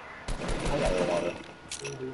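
Video game gunfire shooting through stairs: a rapid burst of automatic shots, fairly close and loud, fading out with a few clattering hits afterward, with a voice talking over part of it.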